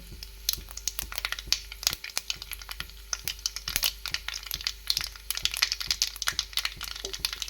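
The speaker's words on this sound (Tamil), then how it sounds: "எண்ணெய் சூடாயிடுச்சு கடுகு உளுத்தம்பருப்பு ஆட் பண்ணிக்கலாம் நல்லா இந்த மாதிரி நல்லா பொறிஞ்சு வருது" Mustard seeds and urad dal spluttering in hot oil in a pan, a dense run of sharp crackles and pops close up with no talking.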